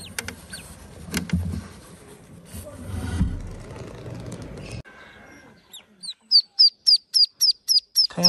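A newly hatched call duck duckling chirps in a rapid series of bright, high peeps near the end, after a stretch of low handling noise and rustling; no talk.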